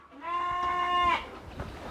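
A single Dorper sheep on a pure Dorper breeding farm in Kajiado gives one clear, wavering bleat of about a second, close by, followed by faint rustling.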